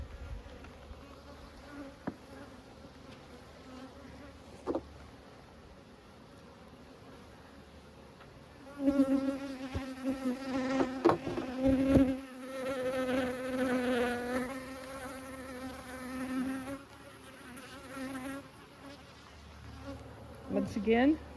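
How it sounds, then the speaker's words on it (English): Honey bees buzz at an open hive during an inspection while workers carry in bright orange pollen. A soft drone runs throughout, then swells into a louder, dense close buzz from about nine seconds on. "There's several bees bringing in that very orange pollen."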